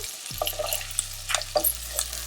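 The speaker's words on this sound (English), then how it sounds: "I just sauteed them together" Boiled potatoes being sautéed in a pan for sabudana khichdi: a low frying hum with a few distinct spatula scrapes and taps against the pan, close and moderate in level.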